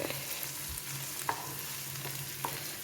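Chicken and tomato for a Kerala-style chicken roast stirred in a pan, a soft low frying sizzle with a few faint scrapes of the spoon, quiet and steady throughout.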